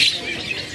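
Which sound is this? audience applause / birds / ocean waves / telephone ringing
birds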